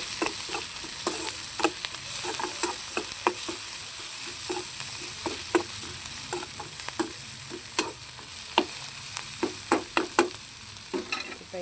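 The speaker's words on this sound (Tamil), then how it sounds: "வெங்காயம் நல்லா வதங்கும் போது லைட்டாக வந்து உப்பு சேர்த்துக்கிறோம்." Onions with salt sizzle and sauté in a pan under a constant soft frying hiss, punctuated by regular sharp stirring taps and scrapes of a spoon, close-up and without speech.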